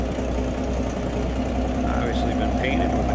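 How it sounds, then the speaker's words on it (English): The 200 cubic-inch inline-six engine of a 1969 Ford Mustang coupe idles with a steady, even low rumble, recorded close under the open hood. "200 in line six. Smooth runner."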